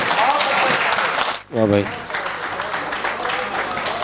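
An audience at a kavi sammelan and mushaira poetry event claps loudly, pauses briefly while a voice calls out, then the applause continues steadily.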